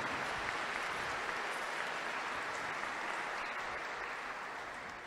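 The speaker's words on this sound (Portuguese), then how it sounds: "Uma salva de palmas para o padre João" A church congregation at a solemn Mass for Saint Joseph claps for a priest marking 42 years of priesthood, a dense, even roll of many hands that stays steady and fairly soft for about five seconds before easing slightly.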